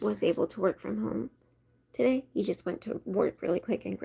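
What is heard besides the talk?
None of the usual background noises is heard.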